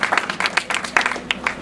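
Brief, patchy applause from a modest audience at a press conference for the Palio dei Mezzadri 2011, with a few hands clapping unevenly for under two seconds.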